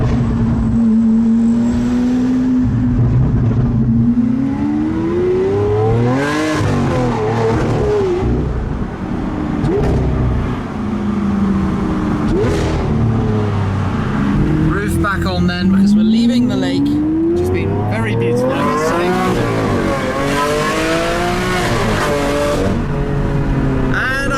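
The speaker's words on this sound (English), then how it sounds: "But my word, the noise of this thing." Lamborghini Aventador SV, top down on a road among other supercars, its engine roaring and rising and falling through revs with exhaust crackles, loud and close throughout, with talk over it.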